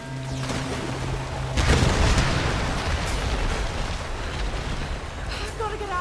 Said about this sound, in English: Just go down there and blow all the barrels up.